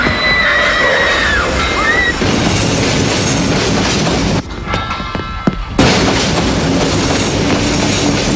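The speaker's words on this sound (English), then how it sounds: "There's a train coming. It's on this line." A train approaches along the railway line, its loud, broad rumble and rattling wheels filling the air with a brief dip before the roar returns close by.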